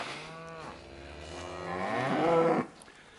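Cows moo on a farm, one long low call followed by a second louder, rising moo that ends abruptly, heard close with no voices.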